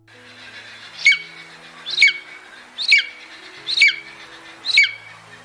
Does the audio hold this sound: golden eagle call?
yes